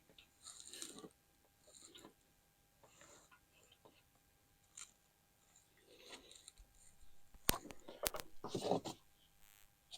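Ratchet clicks and wrench handling sound up close while a bolt is tightened on the serpentine belt setup of a 2008 GMC Savana 2500 van, in intermittent bursts with a sharp clatter of metal near the end.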